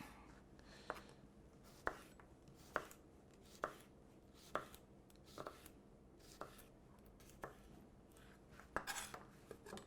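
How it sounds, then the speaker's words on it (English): A knife slices a Persian cucumber into small rounds on a cutting board, about a dozen crisp, evenly spaced chops close by and fairly quiet, with no voices. "for our Persian cucumber, let's cut this into small rounds"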